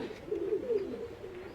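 Pigeons coo softly in a loft in Mirpur, Dhaka, a steady low warbling call that swells and fades over about a second and a half, close and moderately loud with no talking.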